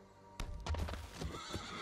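Horse neighing in the Magic the Gathering Arena video game: after a quiet start, a sudden whinny breaks out with hoof-like clip-clops and a trailing snort, moderately loud, without talk.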